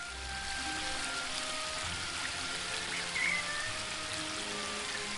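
Steady rushing waterfall from the Book of Unwritten Tales 2 game, a continuous broadband wash of falling water with a faint tonal shimmer, constant and even throughout, no voices.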